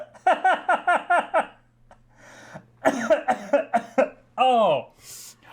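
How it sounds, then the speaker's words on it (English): A person coughs hard in a rapid burst of about seven harsh coughs, pauses, then breaks into another series of coughs ending in a wheezing, strained gasp, loud and close. "We got him coughing."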